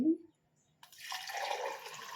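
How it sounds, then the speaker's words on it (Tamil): After a brief voice and a short pause, water is poured onto sugar in a pan while making ghee Mysore pak, a soft, steady close-up splashing stream. "இப்போ ரெண்டு கப்பு சீனிக்கு ஒரு கப் தண்ணி தான் ஊற்றணும்னு சொல்லி போட்டுருங்க"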